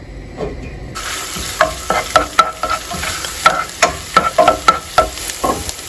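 Crushed ginger sizzles in hot coconut oil in a pan, the frying starting abruptly then joined by regular sharp spoon scrapes and taps against the metal, loud and near with no voices.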